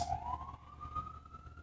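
A police emergency siren wails in a steady rising tone, fairly faint and distant, with traffic rumble underneath, heard in New York.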